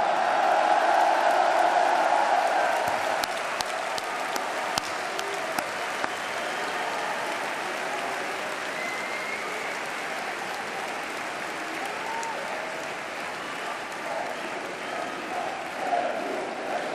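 A large hall crowd at a political rally on purchasing power in Lille applauds students in the audience: loud, dense clapping sustained for the whole stretch, with scattered cheers and voices mixed in, easing only slightly toward the end.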